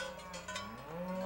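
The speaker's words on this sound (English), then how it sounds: "So these are the cows and their calves?" Cows and their calves on a grass-fed cattle ranch give a low, drawn-out moo, faint and distant, with a steady tonal drone and no talk over it.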